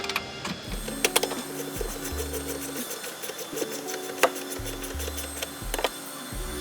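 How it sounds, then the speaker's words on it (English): A ratchet tightening a bolt on a 10th gen Honda Civic 2.0L during a PRL high volume intake install, with quick repeated clicking strokes and a few sharper metallic taps over a steady low mechanical hum. "Then you can go ahead and tighten it using your ratchet."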